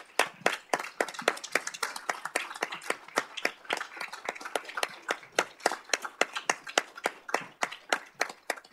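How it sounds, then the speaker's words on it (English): An audience claps at a city council meeting in Goodyear, Arizona after a proclamation, distinct individual hand claps ringing out sharply in an uneven rhythm through the whole stretch, fairly close and with no talking. "Let's give a round of applause."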